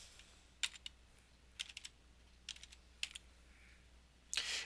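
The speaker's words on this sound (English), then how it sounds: "Just go in here and we can type in gardening." Search term typed on a computer keyboard, with short clusters of quick, light key clicks separated by pauses and a longer final burst, faint and close with no talking.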